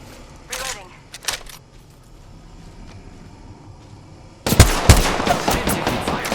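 Gunfire in Apex Legends, a couple of quick shots at first, then a loud burst of rapid automatic fire that keeps going to the end, with a voice talking over it.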